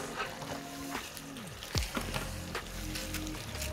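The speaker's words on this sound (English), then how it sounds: "So now I'm going to go in and add my tofu." Tofu dropping into a reduced black lime sauce in a pan, a soft sizzle and bubbling with a few clattering scrapes and taps of a utensil against the pan.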